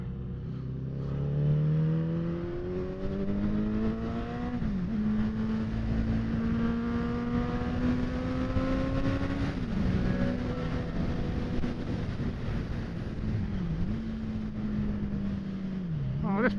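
Honda VFR400 motorcycle racing on a track day circuit, its high-revving engine screaming steadily close by with repeated gear-change dips as it climbs through the revs, loud and continuous throughout.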